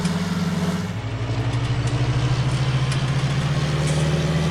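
A tractor engine in the Farming Simulator game runs steadily at close range, a low droning hum that shifts pitch slightly about a second in and then holds an even idle, with no talking over it.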